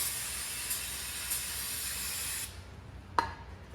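A spray can of cleaner hisses in one long continuous burst, loud and close, then cuts off; a short sharp click follows near the end, and no one speaks.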